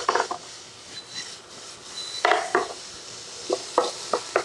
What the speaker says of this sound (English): We're gonna saute the onions and put those in there